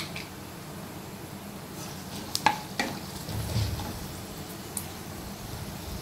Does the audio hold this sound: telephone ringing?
no